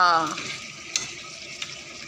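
Fish head and potato curry frying in a pan, a faint steady sizzle with two small spoon taps, after a brief voice at the start.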